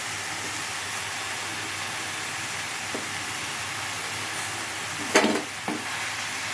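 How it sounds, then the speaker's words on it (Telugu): Chopped spinach hits hot tomatoes in a pan, giving a steady low sizzle with a couple of sharper stirring clatters near the end. No voices. "కట్ చేసుకున్న పాలకూర వేసేసుకున్నాం."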